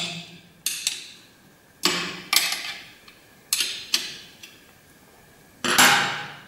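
A size 6 hex key loosening screws on a skibob makes sharp metallic clicks and snaps in uneven groups of two or three, close by and fairly quiet, with short rustles in between and no speech.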